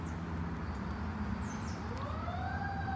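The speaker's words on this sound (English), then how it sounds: "The ambulance will make them stop for the camera." An ambulance siren wails in the distance, its rising tone emerging over a steady low rumble of traffic.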